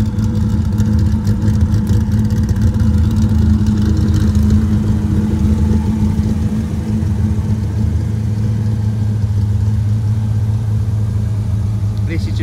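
A Hennessey-tuned Dodge Viper Venom 600 V10 runs with a deep, steady rumble close by, holding near idle with only slight shifts in pitch and little sign of sharp revving.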